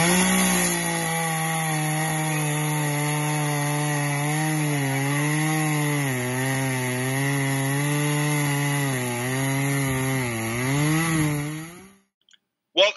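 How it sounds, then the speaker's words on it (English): A chainsaw runs steadily while cutting down a tree, its engine note loud and close, wavering in pitch as the bar bites into the wood, then cutting off abruptly near the end. "we gonna learn how to cut with a chainsaw"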